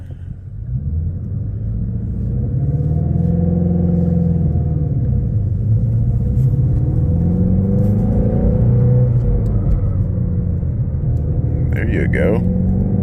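A Ford Mustang GT350 rumbles in traffic with its engine in sport mode, a deep steady drone that swells and settles as the car creeps and pulls away, loud and close from inside the cabin, with a brief clatter near the end.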